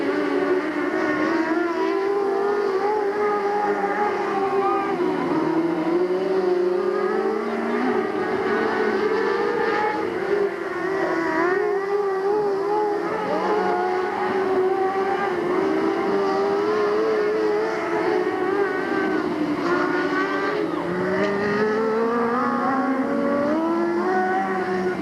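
Race cars circle Delta Speedway in 1997, their engines making a loud, continuous drone that rises and falls in pitch as the pack passes, with several overlapping engine tones throughout.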